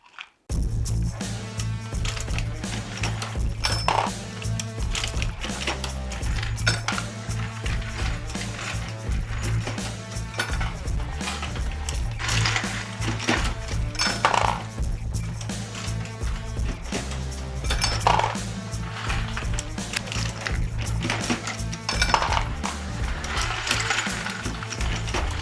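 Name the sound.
Dillon XL750 ammunition reloading press loading ammo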